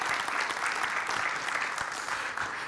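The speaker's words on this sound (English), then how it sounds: "Actually, you should not give me the applause." A crowd applauds warmly, a dense, steady wash of clapping from many hands that carries on without pause.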